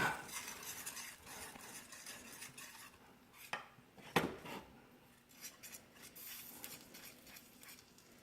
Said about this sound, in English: Get that all stirred together.